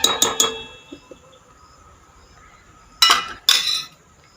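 A metal kadai frying pan is set down on the stove with a few sharp, close clanks. Light clinks sound in a quiet kitchen, and a final pair of louder metallic knocks rings out near the end.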